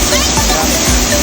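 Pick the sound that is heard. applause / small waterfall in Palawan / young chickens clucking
small waterfall in Palawan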